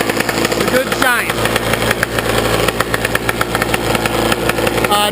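Dirt bike engine, an 86, running steadily after its carburetor was primed, a loud, close, rapid buzzing idle with a brief revving rise near the start.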